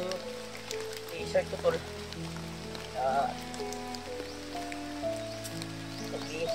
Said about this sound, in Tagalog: Ay, Yung ulan.